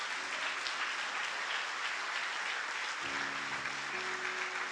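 Church congregation applauding during a service, a continuous wash of clapping that stays even and moderately distant throughout, with faint tonal hum underneath.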